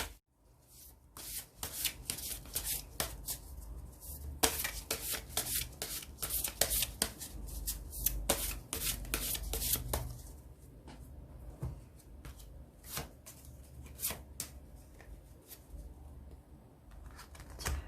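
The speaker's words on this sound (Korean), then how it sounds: "좋은 카드 한번 이 관계에 대해서 한번 뽑아보도록 할게요" Tarot cards are shuffled and drawn at close range: a series of crisp riffling bursts and soft card slides on a table, followed by quieter handling, with no voices.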